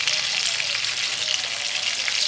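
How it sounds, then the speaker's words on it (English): Chopped onion hits a hot pan with a steady, close, fairly loud sizzle that hisses evenly throughout, with no voices. "So I'm adding my onion."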